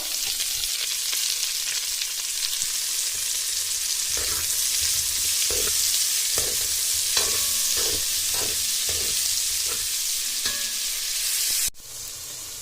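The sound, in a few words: onions frying and being stirred in a cauldron for bograch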